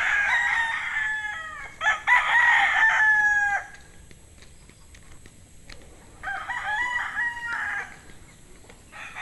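Bull stag gamecocks crowing, two long crows close together near the start and another after a pause, strident and near, with a quiet gap of soft background between them.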